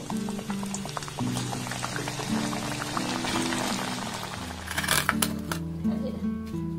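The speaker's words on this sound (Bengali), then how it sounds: "আর একইভাবে সবগুলোকে আমি ভেজে নেব।" Gokul pitha fries in hot oil, giving a continuous bubbling sizzle with a low steady hum underneath and sharper crackles toward the end.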